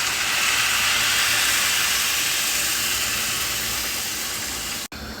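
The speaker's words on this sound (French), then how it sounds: "Voilà, je mets de l'eau chaude." Hot water pours steadily into a pot of cooking rice, a continuous loud hissing rush that holds for about five seconds before cutting off abruptly.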